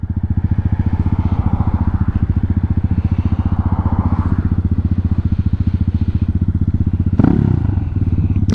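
Honda Hawk 250 motorcycle fitted with an aftermarket exhaust, engine braking: a steady, loud, close throbbing exhaust pulse that continues evenly, then a brief louder rough burst near the end.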